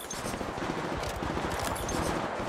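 Rapid automatic gunfire from the mobile battle royale game Apex Legends Mobile, a dense close burst of shots firing in quick succession throughout, loud and without voices.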